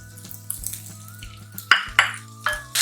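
Ginger fries in oil in a pan in a kitchen: scraping and clinking of a utensil against the pan, with a low hum and soft sizzling in the background.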